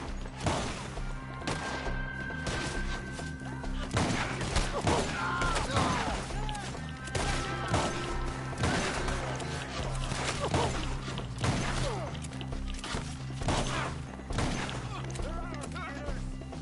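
Repeated gunfire rings out in Red Dead Redemption 2, a dense stretch of cracks, thuds and impacts layered over game music and shouted character dialogue throughout.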